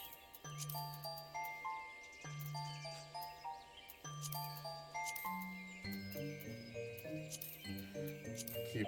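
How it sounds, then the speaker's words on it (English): Short chiming chat notification jingles from Final Fantasy XIV Online repeat in quick succession, bright tinkling tones of a few notes each layered over steady game music. "Notification sounds."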